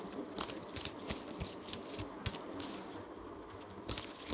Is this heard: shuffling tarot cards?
yes